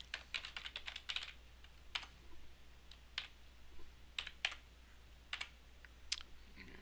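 Typing on a computer keyboard while filling in a form, bursts of quick close clicks separated by short pauses, fairly faint against a quiet room hum.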